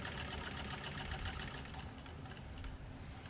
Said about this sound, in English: it sews really fast if you need it to, but you have real good control with the foot pedal